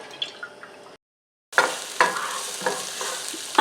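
Diced onion hits hot olive oil in a skillet on a medium-high burner, a steady bright sizzle with crackling spurts and a few clinks of stirring after a brief silent gap.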